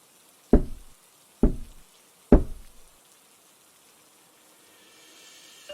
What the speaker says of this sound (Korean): 다시 한번 노크 소리가 들려왔다